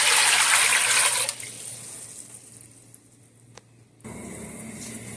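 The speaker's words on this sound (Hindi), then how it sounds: "और इसमें तकरीबन 2 लीटर पानी ऐड करते हैं।" About 2 litres of water pouring into a pot on a stove for noodles, a loud steady gush for just over a second, then quieter trickling and a brief renewed pour near the end.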